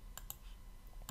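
Computer mouse clicks, three short sharp taps spaced apart, sounding close and faint against a quiet background.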